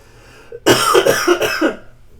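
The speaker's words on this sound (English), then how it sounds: "Excuse me, I'm coughing." A person coughs in a quick burst of several rough hacks, close and fairly loud, preceded by a short throat sound.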